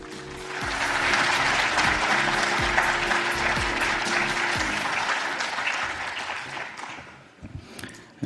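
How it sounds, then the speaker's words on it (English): A seminar audience gives a loud, sustained round of applause for opening remarks, dense clapping from a large crowd that swells, holds, then thins out toward the end. "let's welcome him with a big round of applause"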